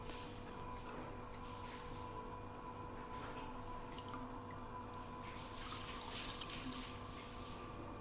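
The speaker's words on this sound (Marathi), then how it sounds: "आपण आता ब्रेड आहेत ते पाण्यामध्ये असे डीप करून घेणार आहोत असे" Bread slices are dipped in water and squeezed out, giving faint soft drips and small watery splashes over a quiet steady background hum, with no talking.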